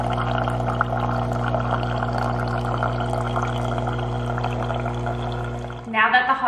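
Hot water pours into a mug over an Earl Grey tea bag in a kitchen, a continuous close, loud stream that fills steadily for several seconds before tapering into a brief splashy finish.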